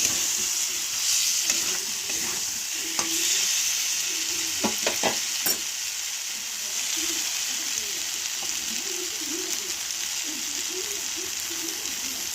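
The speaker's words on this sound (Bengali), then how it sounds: "এরপর টুকরো করে রাখা চর্বিগুলো দিয়ে আমি আরেকটু নাড়ানাড়ি করে নেব" Pieces of fat fry in a pan for a jackfruit curry, a steady close sizzle under repeated scraping and clacking stirring strokes, with a cluster of sharper spoon knocks partway through; no one speaks.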